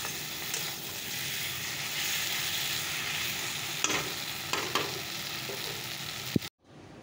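Fish curry with spices cooking in a pan makes a steady, moderate sizzle with occasional stirring clicks, continuing alone until it stops abruptly just before the end.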